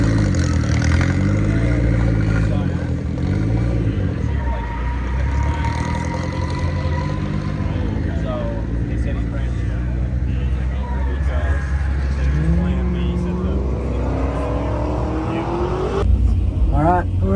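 A 1968 Dodge Dart at a Holley MoParty autocross event revs and pulls hard in a drag race, a loud close V8 drone climbing through gears with pitch sweeps, steady and continuous with a voice faintly mixed in.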